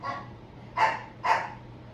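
A dog barking nearby, a few short sharp barks, two clear ones in quick succession after a softer first, against a quiet indoor background.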